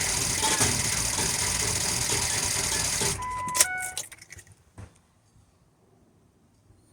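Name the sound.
car engine cranking with clanking, failing to start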